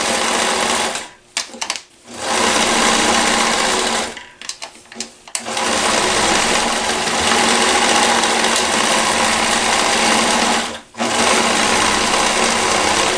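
A Koyo sewing machine stitches through several layers of fabric in loud, steady runs of rapid whirring, cut by a few brief pauses as it stops and starts again.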